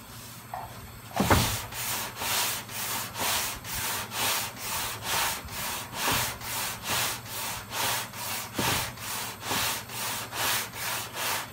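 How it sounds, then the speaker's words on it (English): Steady back-and-forth hand sanding of body filler putty on a Toyota Camry, a rough scratchy rasp repeating in even strokes about twice a second, close up and uninterrupted. "I'm just sanding through the putty and letting up on it even more"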